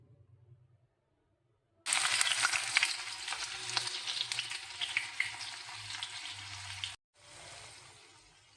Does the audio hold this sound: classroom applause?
no